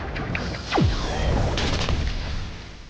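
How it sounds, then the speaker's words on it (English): The Bursting Vapor move in Blox Fruits sets off a small explosion: a swooping falling whoosh, then a muffled boom with a rumbling, hissing tail, fairly loud and close. "It's basically just a little explosion."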